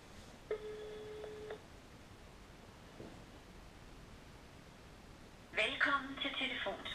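Outgoing telephone call ringback tone during a prank call, with one long ring tone early, a faint blip later and a louder burst of telephone signal near the end over steady line hiss.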